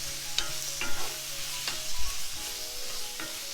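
Lomo saltado stir-fries in a pan with a steady broadband sizzle, broken by several sharp scraping stirs and clinks of a utensil against the pan, close and fairly loud, with no talking.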